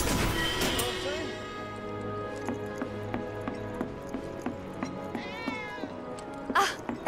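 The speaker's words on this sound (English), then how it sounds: "Ah, that was definitely a cat." A cat meows inside the Final Fantasy 7 Remake video game, its short cries set against in-game music with a steady rhythmic backing throughout.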